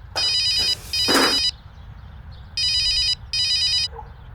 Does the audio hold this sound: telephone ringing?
yes